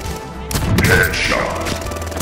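A one-shot sniper rifle firing in a Call of Duty game, a single loud, close blast with a sharp crack and a rumbling tail that fades over about two seconds.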